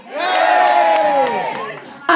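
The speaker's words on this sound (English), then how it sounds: "give me a cheer!" Audience at a live concert at the Old Swan cheering and shouting together, a loud sustained crowd roar of many voices that eases slightly before a final burst.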